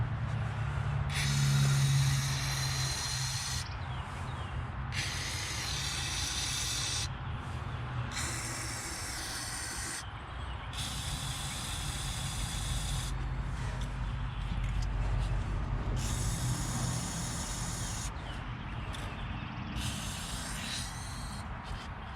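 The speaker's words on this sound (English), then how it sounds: "After I spray some WD-40 down the cylinders." Several long WD-40 aerosol spray bursts hiss in sequence into the engine cylinders of a 1966 Ford F-100 4x4 truck, each lasting a second or two, over a low steady background hum.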